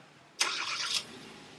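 A Hyundai Verna's engine cranks and catches in a short, loud burst of about half a second, then drops away to a quiet background with no talking.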